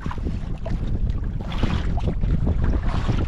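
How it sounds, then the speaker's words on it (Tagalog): Strong northeast monsoon wind buffets a fishing boat at sea, a constant loud rumble of wind noise over the microphone mixed with rushing water, with no talking. "Medyo malakas pa rin yung amihan"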